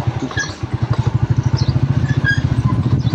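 A motorcycle engine chugs close by in a rapid, even pulsing rhythm, with faint background chatter and street noise.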